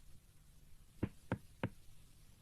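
A doctor in a Shin-chan cartoon taps a patient's back like knocking on a door, making three distinct hollow knocks about a third of a second apart. The knocks sound clear against a quiet, faintly humming room.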